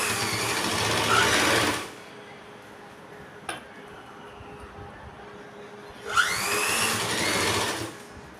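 A sewing machine running a press stitch along a boat-neck kurti neckline, whirring loudly in two bursts of a couple of seconds each, with a quiet pause and a faint click between them.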